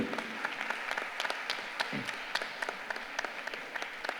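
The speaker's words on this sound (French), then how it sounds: "Vous pouvez vous applaudir puisque vous avez également participé." A crowd applauding with steady, dense clapping throughout, moderately loud and sustained.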